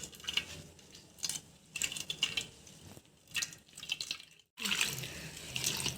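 Freshly extracted coconut milk for an ash gourd stew is poured into a jar in a run of watery splashing bursts separated by brief pauses, close and fairly faint, with a heavier gush near the end.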